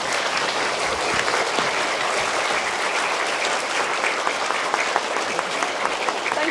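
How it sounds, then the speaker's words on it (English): A crowd gives a teacher a standing ovation, with dense, sustained applause filling the room steadily from start to end, loud and continuous with no talk over it. "Can we give Mrs. Williams a standing round of applause?"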